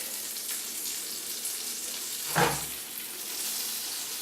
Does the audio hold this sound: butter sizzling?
yes